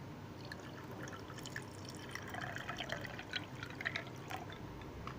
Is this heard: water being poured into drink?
yes